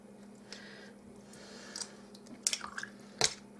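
A plastic-handled tool pokes and slides around inside jars of canned oranges to free air bubbles, giving faint wet squishes and a few sharp glassy clicks and taps over quiet room background, with no talking.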